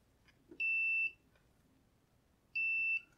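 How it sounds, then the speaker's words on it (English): A multimeter on its continuity setting, used to check connections while building a Game Boy flash cartridge, gives two clear, steady high beeps, each about half a second long and two seconds apart, over quiet background. "I'm just using a multimeter with its continuity setting function."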